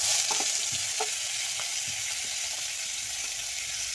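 Cauliflower and potatoes coated with salt and turmeric sautéing in oil in a hot wok, a steady close sizzle broken by scattered scraping and stirring knocks.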